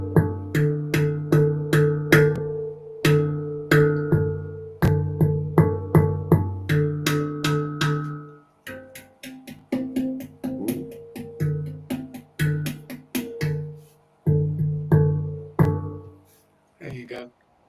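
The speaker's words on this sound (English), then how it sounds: "It kind of sounds like a mini like gong Yeah. It's almost. it's a steel. It's like an inverted steel drum." An inverted steel drum like a handpan is struck in bursts of ringing, bell-like tones, each note sustaining and overlapping in short melodic runs with brief pauses, while people talk over and between the notes.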